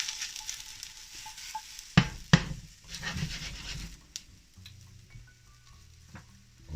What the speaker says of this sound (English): We're nice and hot, and we're going to start with our mushrooms.